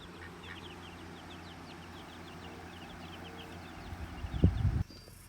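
Faint peeping chirps of chicks run throughout, joined near the end by a short burst of louder, lower duck quacking close by.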